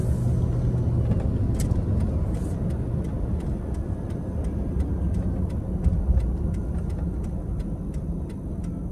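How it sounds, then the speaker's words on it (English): Cars speed past on a road near Lakewood, a continuous loud rumble of traffic and engine noise with scattered faint ticking sounds throughout, heard from inside a moving vehicle. "Look how fast they driving."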